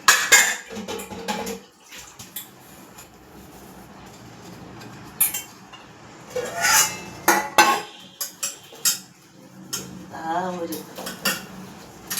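Dishes, pots and utensils being washed in a kitchen at night, with scattered clinks, clatters and scraping of metal and crockery against a quieter background of running water, irregular and close.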